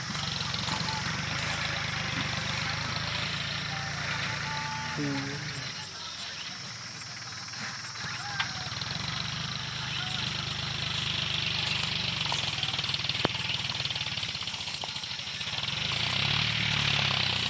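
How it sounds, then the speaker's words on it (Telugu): A tractor tilling soil in a farm field keeps up a continuous rough engine drone with intermittent knocks and clatter, heard from nearby at a moderate level. "ఇక్కడ మట్టి దుబ్బుతుంది ట్రాక్టర్"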